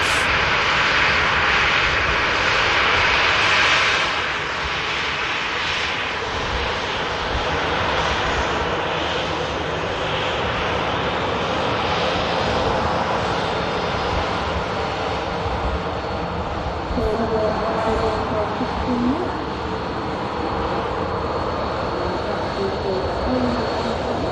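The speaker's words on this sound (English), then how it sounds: "Just a 37-minute flight for that Ryanair." A Ryanair airliner at Manchester Airport roars steadily with loud, sustained jet engine noise that holds for the whole stretch, with faint talk beneath it.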